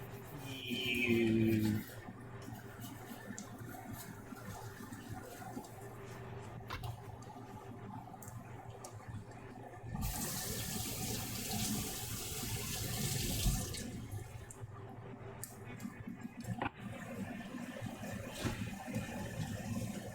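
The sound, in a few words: rinsing a garlic-covered knife under a running tap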